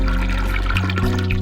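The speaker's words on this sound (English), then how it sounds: "You flush the toilet." A toilet flushes in the Ben Jordan Paranormal Investigator adventure game, a steady rushing gush of water with no talking over it.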